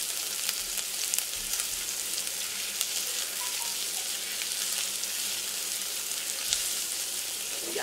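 Onions sautéing in a frying pan for a Filipino beef stew, giving a steady, even sizzle and crackle close by, with a few faint clinks and stirs and no talk.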